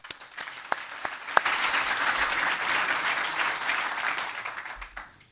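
Steady applause from an award ceremony crowd, a dense wash of clapping that swells quickly, holds for several seconds, and tapers off at the end.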